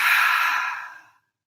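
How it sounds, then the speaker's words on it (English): A single long, deep breath pushed out through the mouth during a guided yoga breathing exercise, a close, airy rush that steadily fades to silence after about a second. "Exhale out of your mouth."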